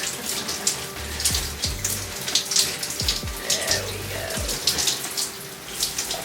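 Water runs steadily from a tap while hair is being wet down, with a constant close splashing hiss and a few low thumps and gurgles underneath.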